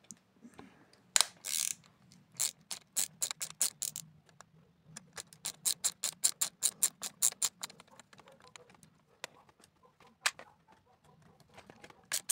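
A wrench works on a Saeco Philips coffee machine brew group during disassembly, giving sharp ratcheting clicks in quick irregular runs, close and fairly quiet against a soft background hum.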